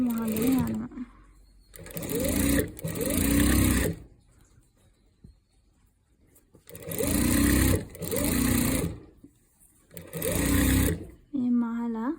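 Sewing machine stitching a shirt collar in three loud bursts of steady whirring, with pauses between and near the end where a person talks quietly.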